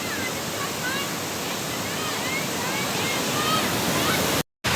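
Kelavali waterfall in Satara pours in a steady, loud broadband roar of falling water, continuous and close, briefly cut out near the end.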